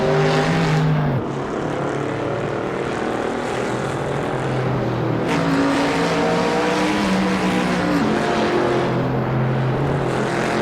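A pack of American muscle race cars piling up in a video game, loud overlapping engine roars with shifting pitch and several abrupt drops as cars scrape and skid near one another.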